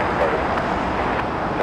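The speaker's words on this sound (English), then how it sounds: "Awesome takeoff there for the 777" Boeing 777 airliner taking off at Los Angeles, a steady loud roar of jet engines with broadband rumble throughout, no pauses, close and continuous.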